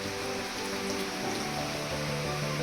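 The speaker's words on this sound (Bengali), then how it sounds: "বাইরে বৃষ্টি হচ্ছে" Steady rain pours outside a home kitchen, a dense even hiss of drops drumming on a surface that holds at a constant moderate level throughout with no voices.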